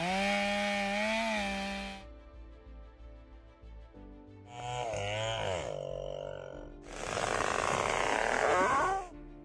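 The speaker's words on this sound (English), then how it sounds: "They make strategic cuts on the tree trunk to guide its fall in the desired direction." A chainsaw cutting into a huge tree trunk during felling, its engine whining and bogging in three long bursts that rise and fall in pitch, with short pauses between them.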